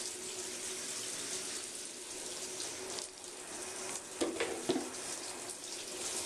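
A bathroom tap runs steadily while a puppy is bathed, a broad hiss of flowing water. Faint splashes and thumps come near the end.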